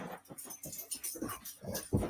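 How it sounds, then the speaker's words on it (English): A dog whimpering in the background, giving a run of short, repeated whiny cries and yelps in an uneven rhythm, moderately loud. "That's my crazy dog back there."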